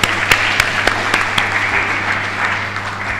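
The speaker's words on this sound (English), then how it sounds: "Shall we give him a round of applause" An audience at a healthcare financing symposium in Ghana applauds, a steady wash of clapping with some sharp individual claps standing out, a low hum underneath, and no speech.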